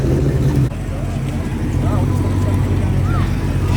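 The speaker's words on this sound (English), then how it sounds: "Hellcat Challenger." A Dodge Challenger Hellcat with an SRT setup idles loud and close at a Cars and Coffee meet, its steady low engine rumble running throughout under crowd chatter and nearby talk.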